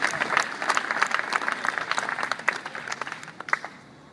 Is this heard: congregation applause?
yes